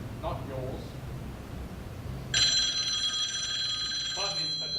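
An old-fashioned telephone bell breaks in partway through and rings continuously, loud and close, over a quieter scene where people talk.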